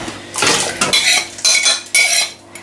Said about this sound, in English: I'm going to add onions chopped up and grated.